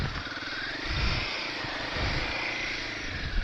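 A Royal Enfield Himalayan 450 motorcycle engine idles with a steady, even mechanical hum that holds close and moderately loud for the whole stretch, with no one talking.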